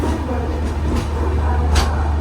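The Himsagar Express rolls out of Nagercoil Junction station, a steady low rumble of the moving train heard from on board, with a few faint clicks and soft bursts of noise over the drone.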